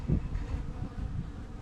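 Honeybees in their hive, a low soft buzzing drone heard close and quietly for a brief moment.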